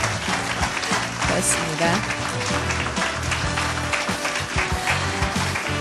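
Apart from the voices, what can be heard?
audience applause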